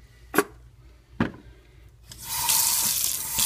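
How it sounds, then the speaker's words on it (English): A kitchen sink tap is cranked on after a couple of sharp knocks, then water gushes steadily and loudly into the basin, close by and with no talking. "Crank your water over to hot."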